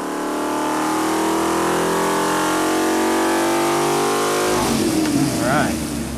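A recycled 5.7L Hemi V8 roars at high, steady revs on a dynamometer, then drops off sharply near the end into a rougher, lower burble as the throttle closes. Loud and close throughout.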